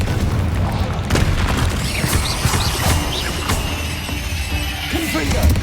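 A fire-blasting Confringo spell detonates in Hogwarts Legacy inside a catacomb, with repeated booming impacts and crackling bursts over a dense, continuous game soundscape and a voice in the background.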